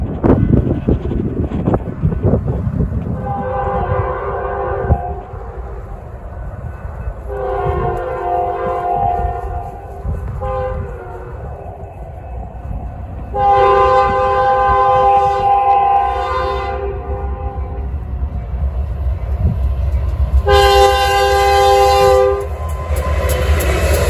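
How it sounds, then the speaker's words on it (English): A Norfolk Southern freight train, NS26N, led by BNSF Heritage II painted locomotives, speeds past a park, its horn sounding in several loud sustained blasts over a constant rumbling roll of wheels and cars. "NS26N came speeding by the park, showing no signs of slowing down, sporting a nice pair of BNSF Heritage 2 painted units."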